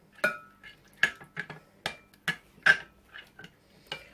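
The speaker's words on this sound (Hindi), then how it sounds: "अच्छी तरह इनको भी मिक्स कर लेते हैं।" A spoon stirring a chicken shawarma marinade with vinegar and lemon juice in a bowl, making a series of sharp clinks and scrapes in an irregular rhythm, fairly close and quiet against a silent background.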